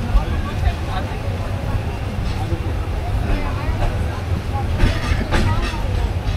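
A Joyantika Express train running on rails between Sylhet and Dhaka near Azampur station, with a steady loud rumble and wheel noise throughout and a few brighter rattling bursts late on.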